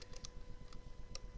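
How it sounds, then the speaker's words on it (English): Quiet, quick keystrokes on a computer keyboard, a short burst of irregular clicks heard close up with no talking. "So let me type that in."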